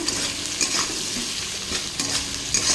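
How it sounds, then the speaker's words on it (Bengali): Onions frying in hot oil tempered with cumin, bay leaf and dried red chilli, a steady close sizzle with soft scraping strokes of a stirring spoon now and then, no voices. "পেঁয়াজটা ফোড়নে আমি দিয়ে দিয়েছি"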